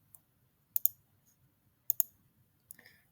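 Crisp mouse clicks, several in quick pairs spaced about a second apart, sound close and clear in a quiet room while designing a database form.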